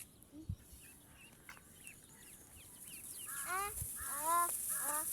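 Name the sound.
machine-hatched ducklings peeping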